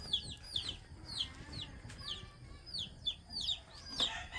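Roosters and chickens cluck and call repeatedly in a rural Philippine province yard, a steady run of short bird calls at moderate distance over faint background noise.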